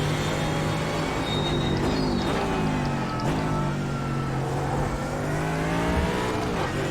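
GT3 race car engine in iRacing, loud and steady throughout, droning with shifting pitch as revs rise and fall, heard alone without talk.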